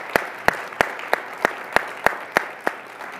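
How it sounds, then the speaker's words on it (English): Rhythmic, evenly spaced sharp claps, about ten in steady succession, form a round of applause at a news media discussion event, fairly close and clear over a quiet background. "let's give them a round of applause"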